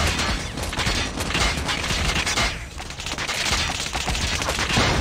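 Rapid, dense gunfire from the video game COD Mobile in its Goliath Clash mode, with robot mechs, crackles loud and continuous for the whole stretch with heavy low booms underneath, easing only briefly midway before the barrage resumes.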